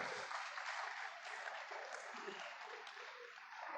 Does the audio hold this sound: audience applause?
yes